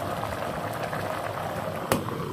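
Coconut milk fish paksiw boiling hard in a pot, a dense continuous bubbling and churning, close and fairly loud, with a brief sharp knock near the end.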